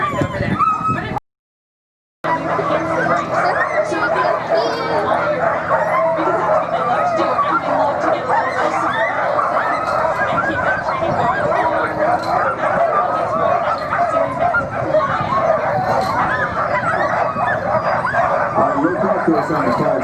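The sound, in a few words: sled dogs barking at kennel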